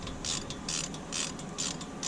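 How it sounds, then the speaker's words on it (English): Ratchet wrench tightening wheel bearing bolts on a 2007 VW Jetta, a close, steady run of rapid clicking strokes in repeated short bursts with brief pauses between. "I can go ahead and start tightening them down."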